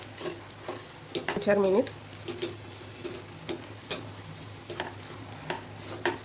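Ingredients with chopped coriander being stirred in a pan, a few scraping strokes with faint sizzling, under a brief spoken remark.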